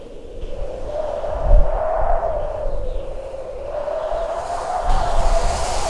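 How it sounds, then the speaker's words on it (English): A dense, roaring ash storm wind in Skyrim swells and drones steadily, with a low moaning tone running through the whooshing gusts throughout. "An ash storm."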